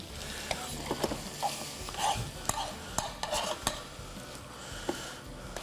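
Quiet stirring and scraping of cooked bits from the bottom of a pan, with soft utensil scrapes and occasional light clicks of metal against the pan, faint and intermittent in a home kitchen.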